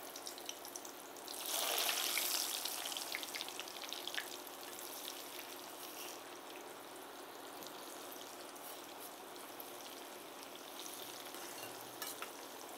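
Salted, parboiled potato strips for French fries drop into hot oil with a sudden loud surge of bubbling sizzle, which settles into a steady, softer frying hiss that continues close by, with no talking.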